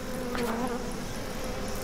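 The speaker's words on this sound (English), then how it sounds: "Flies. Or dragonflies. That's not so bad. Or grasshoppers." Insects buzzing in the video game Outlast 2: a faint, steady swarm-like drone with a wavering buzz, continuous and low in level, with no talking over it.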